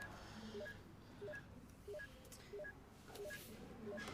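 A telephone dials with a steady sequence of about six short, evenly spaced tones, each followed by a brief pause, faint and clear against a quiet hum.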